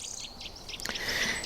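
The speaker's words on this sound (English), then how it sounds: "nuthatches above my head. Can you hear it? That shrill, that chirping." Shrill, high nuthatch chirps repeat in quick short bursts, a few birds calling close overhead against an outdoor background hiss in a campsite woodland.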